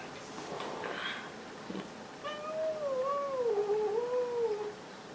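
A house cat meows, a clear, wavering, drawn-out call at moderate distance over a low background hiss.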